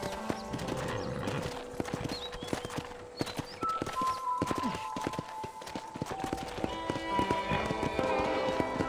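Rapid clip-clopping hooves of a galloping horse in the video game Red Dead Redemption, steady and close, with a brief whinny and faint background tones throughout.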